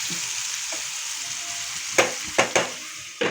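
Onions frying in a pan for a dry fish and brinjal curry, a steady soft sizzle throughout with a few sharp clinks of a utensil against the pan near the end.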